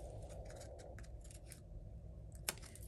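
Scissors snip a small piece of paper for a card-making craft: a quick run of crisp, close cuts in the first second and a half, then a single sharp snip near the end, with no talking.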